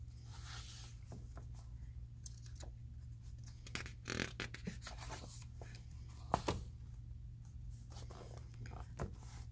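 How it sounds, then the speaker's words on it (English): A pencil sketching in a notebook gives faint, quiet scratches and strokes, some short and some drawn out, over a low steady hum, with no talking. "pulled out her notebook and began to sketch."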